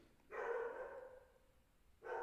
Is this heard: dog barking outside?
yes